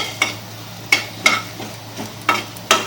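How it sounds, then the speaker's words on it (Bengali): Whole spices dry roasting in a pan for a ghee rohu fish roe recipe, stirred with a utensil that scrapes and clatters against the metal in about five distinct sharp strokes over a low steady background hum. "যতক্ষণ মশলার গন্ধ আসবে ততক্ষণ এটাকে একটু ড্রাই রোস্ট করে নিতে হবে"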